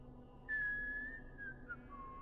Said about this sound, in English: I need you to stop whistling